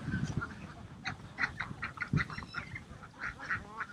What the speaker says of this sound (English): Thick as mince, that duck.